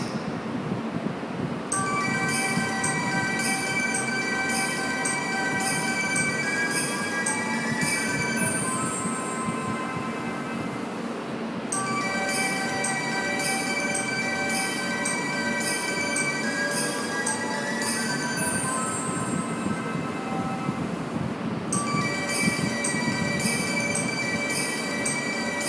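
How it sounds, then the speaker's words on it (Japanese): A Tohoku Shinkansen Hayate train departs Hachinohe station, its loud, rushing rumble and rail noise running throughout, while a bright repeating electronic departure chime sounds over it in several bursts. "13番線からはやて16号東京行きが発車いたします。"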